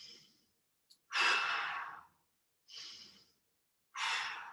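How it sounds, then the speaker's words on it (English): During a climbing strength workout, a person takes several big, deep breaths, heard as four close, airy exhales and inhales separated by short silences, each swelling and then fading. "2 more big breaths."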